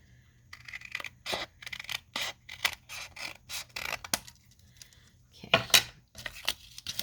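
Scissors cut through thick paper for a double-pocket booklet, making a close, crisp run of repeated snips and scrapes in a quick, uneven rhythm with brief pauses.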